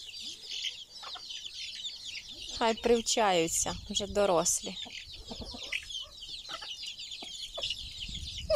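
Hens cluck and squawk close by in a busy farmyard, with a rooster's voice mixed in, while a person talks over the birds.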